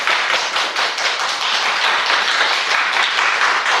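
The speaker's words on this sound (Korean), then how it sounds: "박수 한번 주세요" An audience at a Sunday church service claps together in a loud, steady wave of applause that fills the whole moment without pause.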